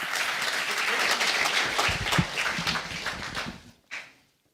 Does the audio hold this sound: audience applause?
yes